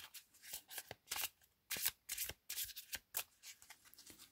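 Tarot cards being shuffled by hand, a quick run of crisp riffling bursts and papery slides in irregular rhythm, close up and alone.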